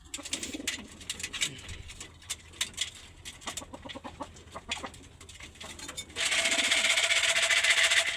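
Pigeons being fed coo and flutter nearby with soft clucking sounds, then a burst of wing flapping near the end.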